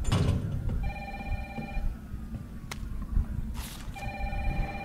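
An old-style telephone rings in Resident Evil Remake, two ringing bursts separated by a pause, set over a low rumbling game ambience.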